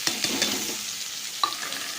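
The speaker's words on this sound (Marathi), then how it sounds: "टोमॅटो एक दोन मिनटं परतून घेते" Tomatoes sautéing in a pan for a homestyle soybean curry: a steady, close sizzle of frying with a few sharp clinks and scrapes of a stirring spoon near the start and again about midway, no voices.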